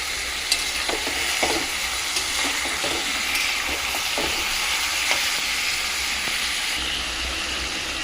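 Chicken pieces salted and frying in a pan, giving a steady loud sizzle and hiss with occasional soft scrapes of stirring, close and continuous.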